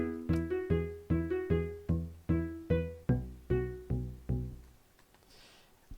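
A plucky, synthetic-sounding melody of evenly spaced blocky notes from video game note blocks playing a song, about a dozen in steady rhythm, then a brief quiet tail.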